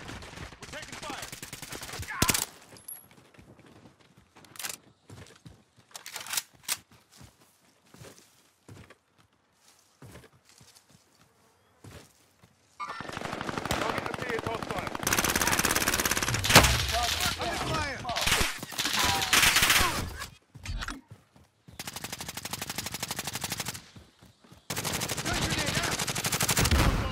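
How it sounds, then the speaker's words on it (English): Bursts of video game machine-gun fire rattle in rapid volleys, sparse at first and then nearly continuous and loud through the second half, mixed with scattered gunshots and occasional voices. "We're taking fire!"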